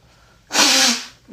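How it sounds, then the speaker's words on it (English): One short, forceful nasal blast lasting about half a second, close and loud, then quiet. "I'm going to blow my nose."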